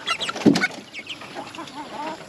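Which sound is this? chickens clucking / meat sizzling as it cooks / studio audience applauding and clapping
chickens clucking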